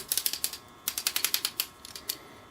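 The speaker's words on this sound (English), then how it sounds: "There are ratcheted joints on the shoulder," Ratcheting shoulder joints on a Hasbro Transformers Masterpiece MP-05 Sunstorm figure click in quick, close bursts of sharp ratchet clicks, with a short pause between runs and no talking.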